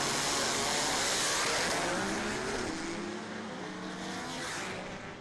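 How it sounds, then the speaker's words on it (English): Drag race cars at Texas Motorplex during TX2K24, a loud broadband engine roar with harmonic sweeps as the pair launches and pulls away, sustained for several seconds and slowly fading. "Here comes our next pair of cars."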